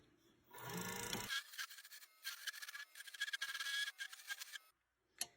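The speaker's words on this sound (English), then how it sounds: "when I'm coming in flat, I can get a smooth scraping cut" A skew chisel scraping and cutting a wooden workpiece spinning on a lathe gives bursts of close, hissing rasp, broken by short pauses, with a soft knock near the end.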